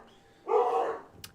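A single dog bark, fairly near and moderately loud, rising out of a quiet background and followed by a short click.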